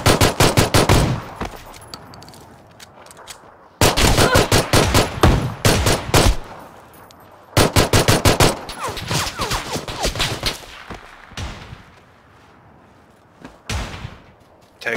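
Rapid bursts of automatic gunfire from PlayerUnknown's Battlegrounds crackle loudly in several sustained volleys separated by short pauses, ending with a few scattered single shots.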